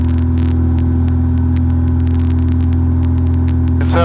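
A Globe Swift light aircraft in flight, its small engine driving a constant speed propeller, drones loudly and steadily in the cockpit with a deep hum and evenly spaced ticking clicks throughout.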